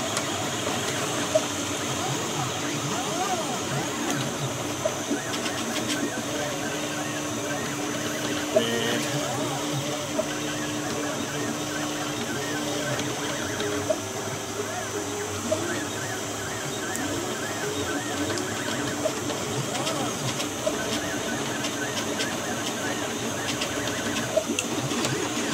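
A Lautr3k or Prusa i3 3D printer runs continuously with whirring motor tones and a busy mechanical hum, holding steady throughout, with no talking.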